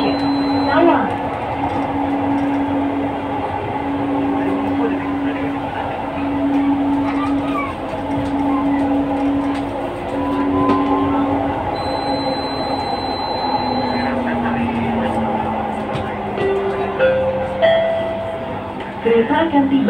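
LRT Jabodebek light rail train running on its line, a steady loud rumble with tonal motor whine rising and falling throughout, with onboard announcement voices heard over it.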